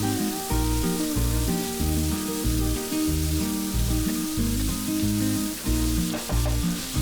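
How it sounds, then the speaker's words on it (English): Sliced onions, three of them, fry in hot oil in a pan with a steady, dense sizzle that runs the whole time, partly masked by loud, rhythmic background music. "Then in a hot pan add oil. Add 3 onions sliced and fry the onion for few seconds."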